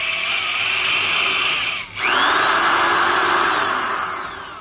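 A Milwaukee corded 3/8-inch carpenter's drill, 3.5 amps and about 1,000 RPM with smooth gears, whines steadily, briefly slows and dips, then spins back up to a sustained high run before easing off slightly.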